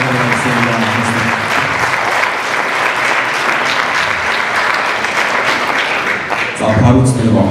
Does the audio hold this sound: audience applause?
yes